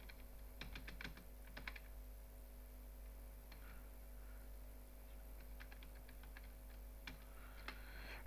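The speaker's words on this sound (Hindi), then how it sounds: "टाइपिंग करेंगे।" Clicky computer keyboard typing in short bursts of rapid keystrokes with pauses between, fairly faint over a steady mains hum, no voices.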